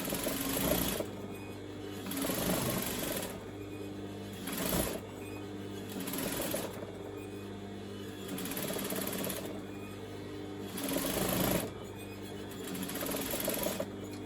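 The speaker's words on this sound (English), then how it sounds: "once again I'm stitching right close to the edge" A sewing machine stitches close to the edge of a fabric tube for a scrunchie, running in loud repeated bursts of a few seconds each, separated by brief pauses.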